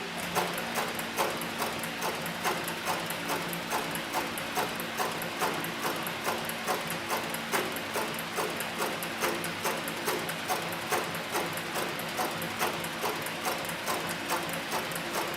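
A CB105 industrial sewing machine stitches leather with a size 328 needle, a fast even mechanical clatter that ticks on without a break, close and fairly loud.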